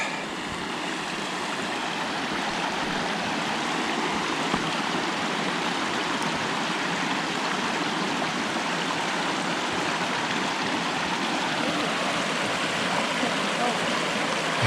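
Fiddler's Creek running beside a road section of the Ouachita Trail: a steady, even rush of flowing water that holds unchanged and fairly close for the whole stretch.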